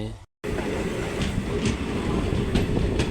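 A train runs along a railway line in Madhya Pradesh, heading toward Dr. Ambedkar Nagar station. Its rumble is loud and steady, with repeated clicks of the wheels over the rail joints.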